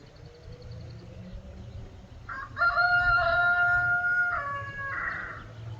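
A young rooster crows once, loud and close, a drawn-out cock-a-doodle-doo rising over steady low outdoor rumble in a garden.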